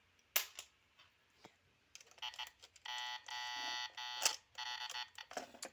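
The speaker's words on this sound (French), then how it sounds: "il n'arrête pas de biper" A faulty toy in a child's bedroom beeps again and again in short electronic bursts. The beeps are moderately loud and close, come in uneven clusters, and are mixed with a few sharp clicks and knocks.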